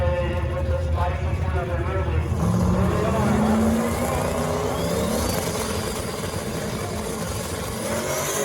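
Drag race cars launch at Bradenton Motorsports Park during a street car shootout, producing a loud, sustained engine roar that rises and then fades slightly as the cars pull away down the strip.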